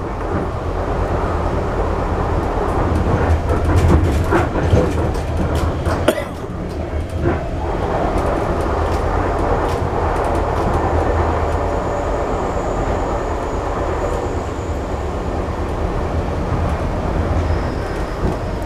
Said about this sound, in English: that train's gonna go flying past us like nothing.